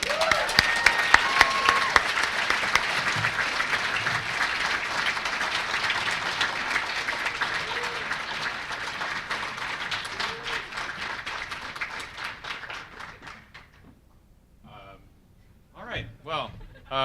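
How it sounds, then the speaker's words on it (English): An audience at a student production awards ceremony applauding teachers, loud sustained clapping close and dense that thins and fades out, followed by a voice starting to speak. "let's give these teachers a big old round of applause"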